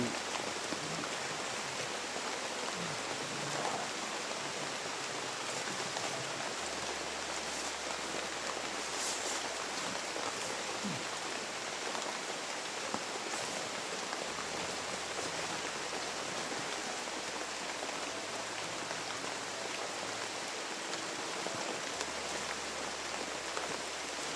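Rain falls in a steady, dense hiss that stays constant and fairly close throughout, with no talking.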